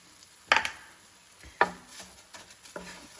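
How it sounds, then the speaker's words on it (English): Raw rice stirred in melted butter in a pan, giving three or four sharp scraping clatters spaced apart over a soft, low background, with no talking. "we're going to toast this rice"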